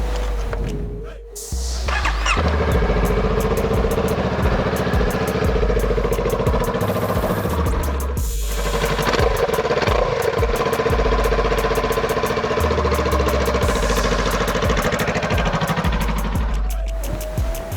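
Honda Rebel 500 motorcycle fitted with a Radiant Cycles Shorty GP exhaust, started up and left idling, a loud, close, steady throbbing rumble with a few blips of revving.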